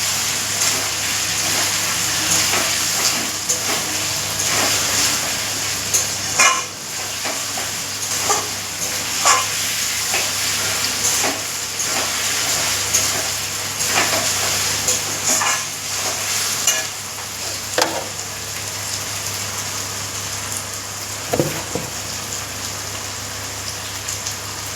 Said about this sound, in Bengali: কাঁকড়াটা রান্না করছি, রসুনটা একটু দিলাম।